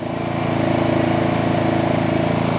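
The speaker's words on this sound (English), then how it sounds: "But that is so quiet for a generator" A portable generator engine runs at a steady, loud idle, a constant rumbling drone with a fast regular pulse and no voices.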